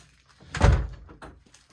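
A door in a basement-level house opens and closes: one moderate thump followed by a few quieter knocks and rattles, heard close and alone.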